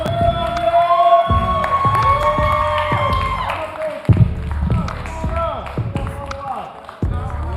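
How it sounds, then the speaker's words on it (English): A crowd at a poetry event finale cheers and whoops loudly for the poets with scattered clapping, voices shouting over one another in an echoing room, swelling and dipping in waves. "You give up all this amazing applause."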